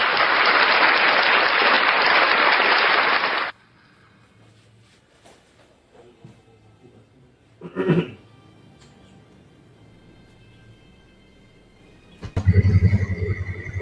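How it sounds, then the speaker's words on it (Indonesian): A brief, loud burst of audience clapping at a religious talk, lasting about three seconds and then cutting off abruptly, followed by quiet with a few scattered noises. "tepuk tangan."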